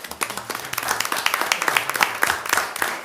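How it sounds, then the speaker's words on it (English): A round of applause fills a town council meeting in Valdese, scattered clapping from a small seated group, steady and moderately close, lasting a few seconds before the business resumes. "I think a round of applause for all"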